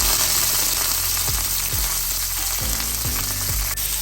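Curry leaves hit hot oil with mustard seeds, fennel and fenugreek for a spicy Tamil egg curry, giving a loud steady sizzle with several sharp bursts of crackling, no voices.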